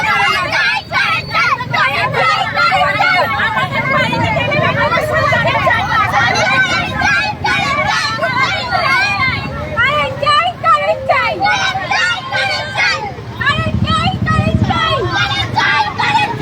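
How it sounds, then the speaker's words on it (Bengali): Villagers blocking the main road in protest over a long power outage, a loud continuous crowd babble with many overlapping voices and traffic rumble underneath. "রীতিমতো রাস্তা অবরোধ করে বিক্ষোভ দেখাচ্ছে গ্রামবাসীরা।"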